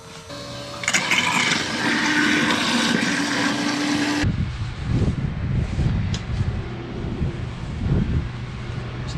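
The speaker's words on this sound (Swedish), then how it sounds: "Länspuppen gick så tyst så att jag trodde inte det här fungerade, men det är för att det är så pass mycket vatten så jag suger" A bilge pump drains water out of a small boat at launch, its steady loud rushing churn filling the first four seconds, then giving way to quieter, uneven sloshing and gurgling water.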